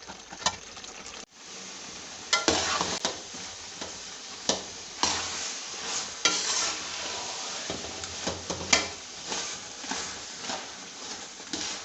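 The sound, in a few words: spoon stirring gajar ka halwa (carrot halwa) in pan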